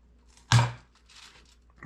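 A single sharp, crunchy snip rings out close by as a cutter severs the wooden dowels holding a clay figure onto its base, followed by near silence.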